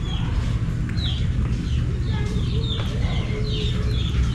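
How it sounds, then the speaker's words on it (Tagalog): Chickens cluck and chatter on a Philippine farm, several birds calling in short repeated bursts over a constant low rumbling background, fairly close. "Sana hindi tirahin ng mga manok."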